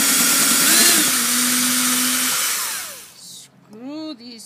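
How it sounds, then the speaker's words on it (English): A power drill whirs steadily while boring pilot holes in a homemade potjie gadget, a loud continuous whine for about three seconds that winds down and stops, followed by a brief voice. "on the outside drill some pilot holes"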